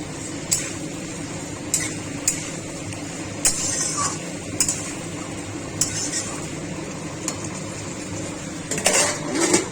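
A lid clatters onto a pan of potato-cauliflower curry cooking with a little water, the clinks and taps of metal cookware ringing out in scattered sharp hits over a low steady hum, ending in a louder rattle.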